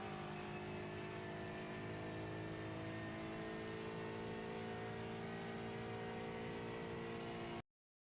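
Aston Martin Vantage GT4 race car engine in iRacing at Willow Springs, a steady loud whining drone with harmonic layers that holds through the lap and cuts off abruptly near the end.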